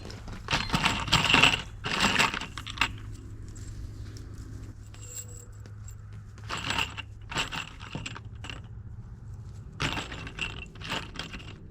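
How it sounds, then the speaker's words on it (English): Handfuls of metal screws rattling and clinking while being scooped up and loaded into pockets, bursts of jangling separated by quieter gaps, close by and without talk. "I'm going to load my pockets up with screws."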